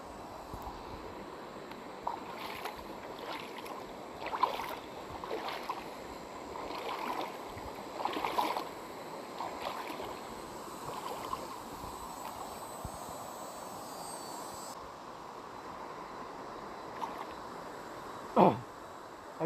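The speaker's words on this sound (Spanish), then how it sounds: "Así se ve lo que es el río San Ramón." The San Ramón river near Barillas, Huehuetenango, flowing as a soft, steady outdoor rush of water, faint and continuous with light wind and occasional small knocks.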